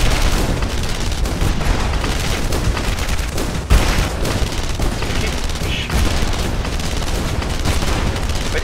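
A submarine fires a machine gun in the video game Narco Terror, dense continuous rapid gunfire and blasts filling the whole stretch, loud and busy, with voices faintly mixed under it.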